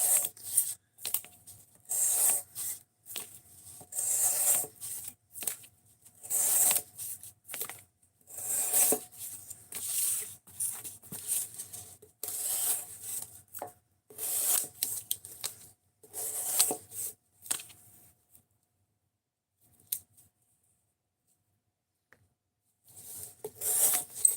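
A knife blade is drawn over a sharpening stone in long, steady, gritty strokes that repeat in a regular back-and-forth rhythm. The strokes stop for a few seconds near the end, then resume.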